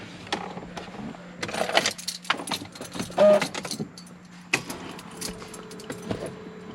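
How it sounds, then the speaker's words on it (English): A key jangles and turns in the ignition of a Mercedes E320 W211, bursts of metallic clinking and clicks, with a faint low hum starting in the second half. "Turn the ignition on."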